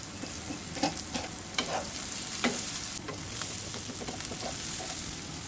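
Onions fry in a pan with half a teaspoon of homemade garam masala while being stirred, a soft steady sizzle with repeated utensil scrapes and small taps close by, no talking.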